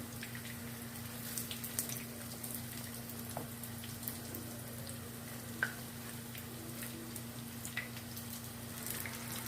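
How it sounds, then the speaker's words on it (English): Russian chicken cutlets fry in a pan after being turned, giving a continuous close sizzle with scattered sharp crackles and pops over a steady kitchen hum. "Now flip it. Flip and fry."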